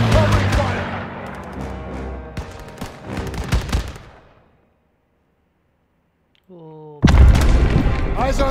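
Call of Duty WW2 campaign combat: loud, dense gunfire and booming explosions for about four seconds, a sudden silence, a brief tonal sound, then heavy firing bursts back in at full volume.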